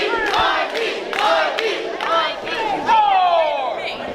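A video-game wrestling crowd roars and jeers continuously throughout a match, loud and sustained with rising and falling swells of cheering.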